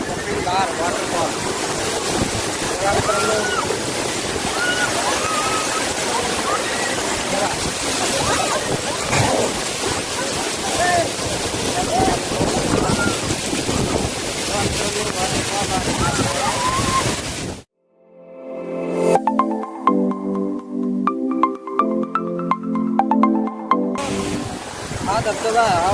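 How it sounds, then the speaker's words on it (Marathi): Kapildhara waterfall thundering in a constant, loud wash of falling water for most of the stretch before it cuts off and music takes over. "Waterfall, Kapildhar waterfall."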